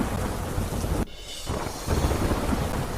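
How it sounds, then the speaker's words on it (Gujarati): Heavy rain pours down in Delhi as a dense, loud hiss that cuts out for a moment before resuming even stronger, steady and close with no voices. "દિલ્હીમાં ધોધમાર વરસાદ થતાં અનેક વિસ્તારોમાં પાણી ભરાયા"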